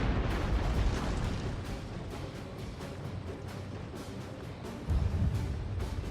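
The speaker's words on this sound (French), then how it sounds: "Ah voilà, c'est des canons" Repeated booming blasts of cannons in the video game Total War: Shogun 2 fire in quick succession over a continuous rumbling roar, loud and dense, in a chaotic battle.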